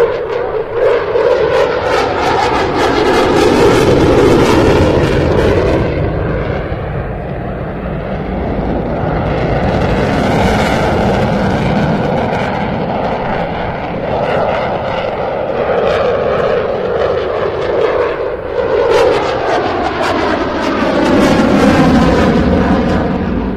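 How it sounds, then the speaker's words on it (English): Loud, continuous roar of a Eurofighter Typhoon fighter jet performing a flying display at the Bournemouth Air Festival, the engine noise swelling and shifting in pitch as it pulls up and rolls, with no talk over it. "taking full advantage of the Typhoon's 23 degree per second turn rate, and now pitching up for an aileron roll and then pulling up"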